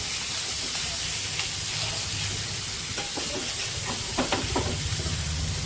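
Fish fries in hot oil in a pan with a steady, loud, close sizzle and hiss throughout, broken by a few brief clicks and scrapes as the pieces are turned.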